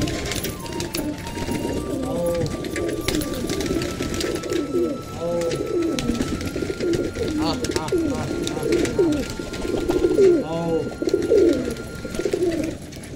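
Pigeons coo in repeated soft, throaty phrases at close range while being fed grain, with someone speaking throughout and some light rustling and tapping around them.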